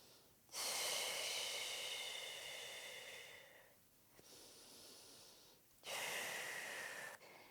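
Slow, deep breaths during a pregnancy pelvic floor stretch: a long airy inhale-exhale near the microphone, a quieter pause, then another breath starting, with no talking.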